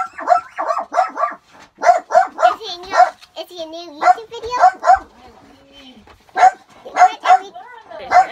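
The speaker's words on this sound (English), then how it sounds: "the dogs are gonna bark in 3, 2." Dogs bark in quick bursts at a campground at Medina Lake, repeated clusters of loud, close barks with short whimpering yips between them, while a person talks briefly.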